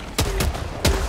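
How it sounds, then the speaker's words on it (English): Autocannon fire in the Helldivers 2 video game: three heavy, evenly spaced shots ring out close and loud over a steady background din of game action. "the auto cannon's shooting that and distracting"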